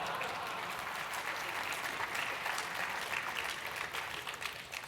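Applause from a conference audience at a Linux and IoT talk, a dense, steady wash of many people clapping, fairly distant and even, lasting throughout and tapering slightly at the close.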